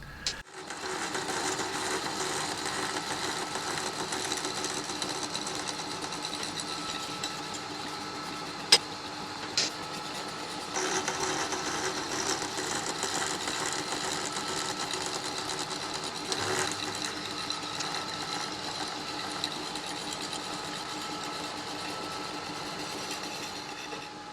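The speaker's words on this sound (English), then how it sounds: "I clamp the ring to an angle plate and cut it to leave about 1 millimetre on the inside" A shop machine cuts a metal ring clamped to an angle plate, producing a continuous, moderately faint mechanical whir with an occasional sharp tick and no speech.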